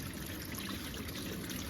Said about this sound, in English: I'm gonna wash all the taps out now.